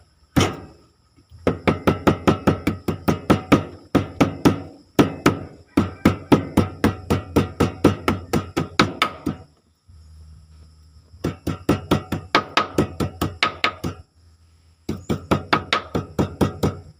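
Ginger is chopped on a board with a knife in quick, sharp knocking strokes, fast even runs of close thuds broken by short pauses, with no talk over it.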